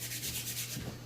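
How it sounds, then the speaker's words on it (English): Oiled hands rub together close by in a short burst of soft, rhythmic swishing strokes, faint and without talk. "just rubbing them together"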